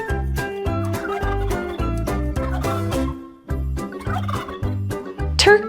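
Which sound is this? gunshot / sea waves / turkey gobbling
turkey gobbling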